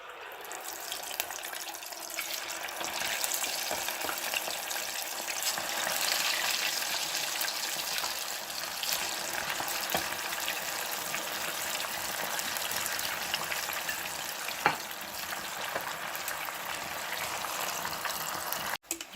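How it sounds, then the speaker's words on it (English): Thai-style crispy pork belly chunks frying a second time in hot oil give a steady, even sizzle and fine bubbling at moderate volume, with one brief clatter near the end and no talking. "Okay, these have been frying for another minute."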